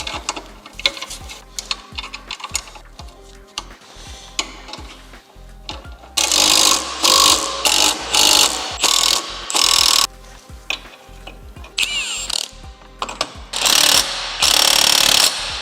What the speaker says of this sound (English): Then we can get the first bolt in.